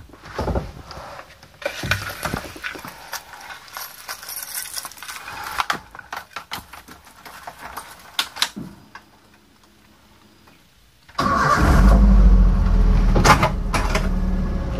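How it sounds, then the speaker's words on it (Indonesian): A 2005 Toyota Avanza's engine starts after a stretch of soft clicking and mechanical ticks and a brief quiet pause, then catches abruptly into a loud, steady idle close by. "kita nyalakan mobilnya terlebih dahulu"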